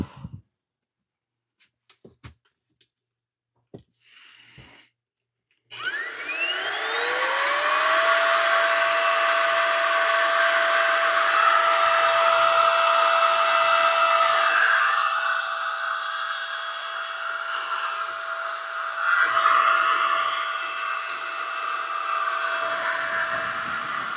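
A Heimerdinger cordless dust blower whines up from silence after a few faint clicks, then runs steadily with a loud, high-pitched motor tone that holds for nearly twenty seconds, close and alone.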